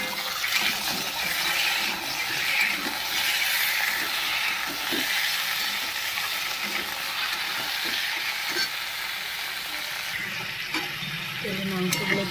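Chicken meat sizzling steadily with onions in a hot pan, a dense continuous frying hiss with occasional stirring scrapes throughout, fairly close and loud.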